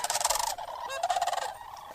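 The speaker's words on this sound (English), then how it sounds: "those obviously were Sandhill Cranes flying right over" Sandhill cranes flying overhead in the Sanpete Valley west of Ephraim, Utah, giving loud rolling, bugling calls in overlapping bursts, close and clear with no talk.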